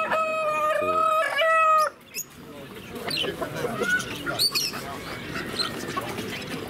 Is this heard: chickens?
yes